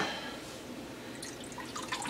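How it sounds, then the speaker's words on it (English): Water trickling and dripping into a household sink left running overnight in cold weather, a soft, steady patter with a few brighter drips toward the end, close and fairly quiet. "Make sure that the water in the sink is still moving."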